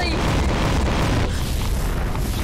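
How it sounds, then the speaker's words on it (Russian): A nuclear explosion booms in the Five Nights at Freddy's Security Breach map of a video game: a loud, dense blast roar that fills the clip and slowly fades into rumbling, with a voice faintly underneath. "ядерный взрыв их убивает"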